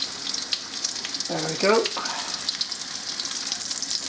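Food fries in hot oil in a pan with a steady crackling sizzle, while someone speaks briefly midway.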